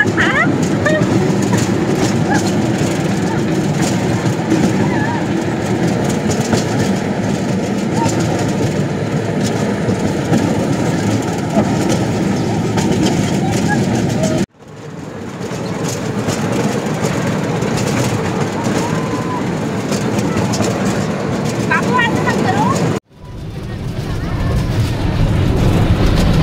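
A train runs along the rails with a continuous loud rumble and rattle heard from inside a carriage, the steady roar broken by two abrupt dips partway through.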